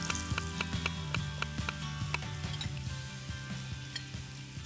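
Salmon sizzles steadily in a frying pan, a continuous close hiss of hot oil broken by regular sharp crackles and pops, with no one speaking.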